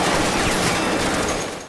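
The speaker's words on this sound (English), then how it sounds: "Right, anime girl shooting again." Rapid automatic gunfire from an anime girl character shooting in Girls Frontline 2, a loud dense burst of shots running almost two seconds before trailing off slightly.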